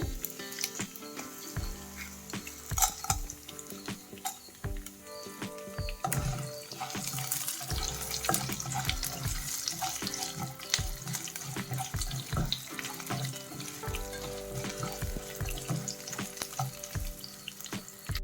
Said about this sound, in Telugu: ముందు ఆవాలు వేయించుకుని తర్వాత శనగపప్పు మినపప్పు వేసుకుని తర్వాత వెల్లుల్లి వేయించుకోవాలి